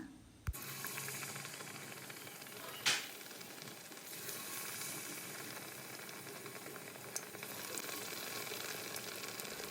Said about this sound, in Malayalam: ഇനി ബാക്കിയുള്ളത് കൂടി ഇതുപോലെ ഒന്ന് ഫ്രൈ ചെയ്തെടുക്കുകയാണ്